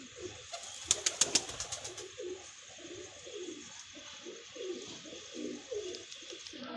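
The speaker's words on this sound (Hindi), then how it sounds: "ये जा रहे हैं कबूतर ऊपर" Pigeons coo repeatedly in the early morning outdoors, soft rolling calls that keep on throughout, with a brief burst of wing flapping near the start as the birds take off.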